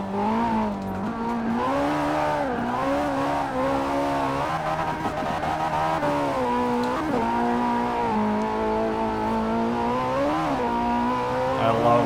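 Toyota GT86 fitted with a 2JZ engine in Forza Horizon 4, heard from the cockpit while drifting: a loud, continuous engine note rising and falling through repeated revs, with sustained high RPM and brief dips between pulls.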